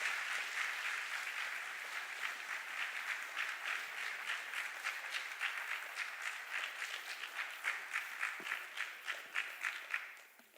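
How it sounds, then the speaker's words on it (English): Sustained audience applause at a 10th grade high school academic awards ceremony, a dense steady clapping from a crowd that carries on for about ten seconds before tapering off at the end. "Ladies and gentlemen, a round of applause for our 10th grade high honors."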